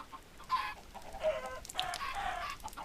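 A crowded flock of chickens clucks in short, overlapping bursts, some close and some farther off, with a brief higher squawk in the middle over a faint background hiss.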